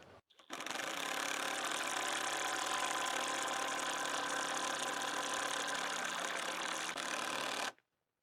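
Hyper Tough mid torque impact wrench hammering continuously for about seven seconds, a steady, dense, loud rattling buzz close by that starts and stops abruptly.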